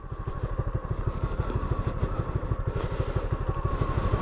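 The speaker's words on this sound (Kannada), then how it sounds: "ಈವನ್ ಇದರಲ್ಲಿ ಆಯಿಲ್ ಕೂಲ್ಡ್ ಎಂಜಿನ್ ಬರಲ್ಲ, ಏರ್ ಕೂಲ್ಡ್ ಎಂಜಿನ್ ಬರುತ್ತೆ." Air-cooled 150cc single-cylinder motorcycle engine idling up close, a steady rapid low thumping pulse with a mechanical clatter, loud and alone throughout.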